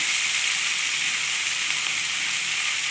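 Ginger dropped into a hot pan for a cauliflower, potato and fish curry sizzles loudly and evenly, a dense continuous hiss that holds steady throughout.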